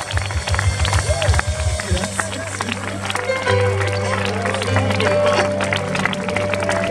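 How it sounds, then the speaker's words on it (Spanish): A church congregation claps and cheers over a preacher's loud voice and music, the clapping dense and ongoing. "Alguien aplauda de verdad al Señor."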